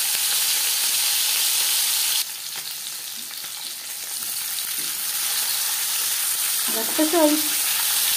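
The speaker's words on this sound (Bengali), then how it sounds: "4 চামচ রিফাইন্ড অয়েল গরম করে নেওয়ার পর দিয়ে দিলাম ম্যারিনেট করে রাখা মাছ।" Marinated tilapia fish fries in hot refined oil with a steady, close sizzle that softens slightly partway through, while a voice briefly speaks near the end.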